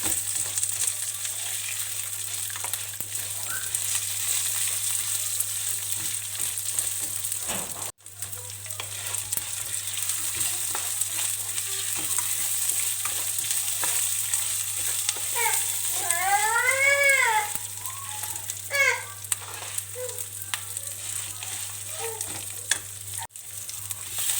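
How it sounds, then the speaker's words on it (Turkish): Two heads of peeled garlic sauté with onions in a pot, making a continuous close sizzle broken by occasional stirring scrapes, with a faint rising whistle-like chirp in the background partway through. "İçerisine ilave ediyorum ve bu şekilde de 2 dakika kadar kavuruyorum."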